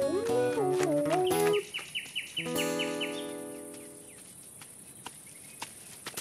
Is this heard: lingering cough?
no